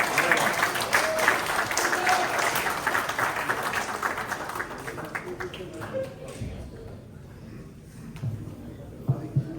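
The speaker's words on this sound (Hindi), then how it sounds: "आपकी भरपूर तालियों में जनाब रफीक आकोलवी साहब।" An audience applauds loudly at an international mushaira poetry gathering. The clapping is thick at first, then thins and fades out over the second half while voices carry on.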